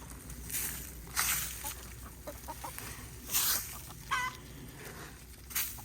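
Backyard chickens and a rooster clucking in short scattered bursts, some louder squawks standing out over a soft farm background.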